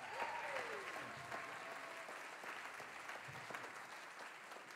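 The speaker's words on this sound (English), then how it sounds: "so give him a round of applause." Audience applause at a high school fall jazz concert, a steady wash of many hands clapping for a student musician, sustained and fairly even throughout with no voices on top.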